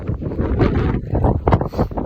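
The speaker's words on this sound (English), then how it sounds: "I wish it weren't so windy. I would get a little bit more video and have better audio." Strong wind buffets the microphone high on a Colorado mountain near Gore Lake and Red Peak, loud gusty rumbling in irregular bursts.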